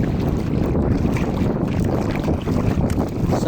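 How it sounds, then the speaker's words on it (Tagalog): Steady gusty wind blowing at the seashore in Macrohon, Southern Leyte, a constant broadband rush with low rumbling buffets against the microphone, no voices. "Medyo mahangin"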